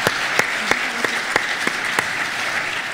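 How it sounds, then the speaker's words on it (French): Steady audience applause fills the room, dense clapping with a few sharper individual claps standing out, continuous throughout. "Et je vous propose qu'on applaudisse Laurence Müller-Créange pour son travail"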